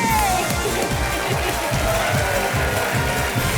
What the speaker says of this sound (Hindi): और शोर और ताली बजती रहे